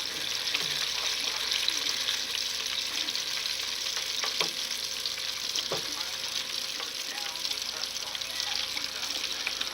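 Battered pieces frying in hot oil, a steady broadband sizzle that holds evenly throughout, with occasional soft pops and scrapes and faint background voices.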